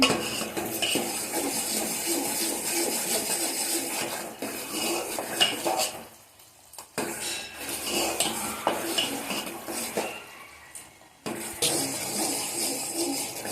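Jaggery syrup being stirred in a pot for black sesame sweet balls, with repeated metal spoon scrapes and clinks against the pot, a short pause midway, then steady stirring again.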